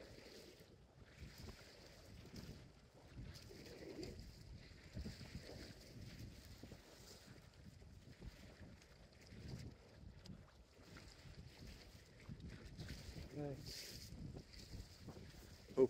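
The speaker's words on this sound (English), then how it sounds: "Wind's starting to pick up a little bit." Wind gusting over a rocky Anglesey shoreline during rock fishing, a steady rumbling buffet of wind noise with faint surf underneath, close to the microphone and fairly quiet.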